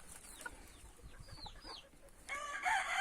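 A Cochin bantam rooster crows, a clear rising-and-falling call near the end, preceded by soft clucks and chirps from small bantam chickens, fairly faint overall.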